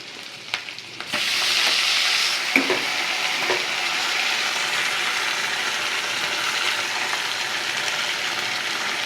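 Soaked Gobindobhog rice hitting hot oil with ginger and garam masala in a pan, a loud steady sizzle starting abruptly after a few clinks, with scraping stirring sounds continuing throughout.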